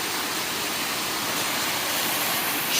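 A waterfall near Wynoochee in rainy weather, a loud continuous broadband rush of falling water, steady and close throughout with no other sounds standing out.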